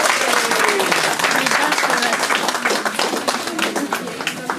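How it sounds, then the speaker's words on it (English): An audience at a launch event gives a loud, sustained round of applause, dense overlapping clapping close up, with a voice briefly audible over it. "Let's give them a big applause and we let them go."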